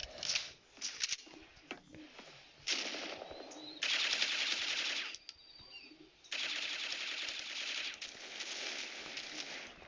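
Bursts of automatic gunfire ring out in a shooter video game, coming in several separate volleys of rapid shots with short quiet gaps between them.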